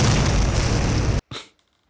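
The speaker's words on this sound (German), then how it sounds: "Oder am besten wäre es so in den alten Filmen eine Explosion." A loud, broadband explosion roars for about a second, cuts off abruptly, then a short final burst fades into silence.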